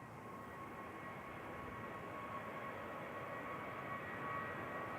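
A TUI jet departing Manchester Airport for Tenerife South banks away in the distance, its engines a steady, fairly faint roar that swells slightly toward the end, with no talk.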